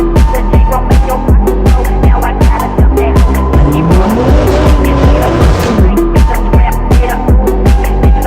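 A Toyota Supra driving past on a rolling shoot, its engine roaring loudly and close with tire squeal and a steady run of rhythmic pulses throughout, no voices.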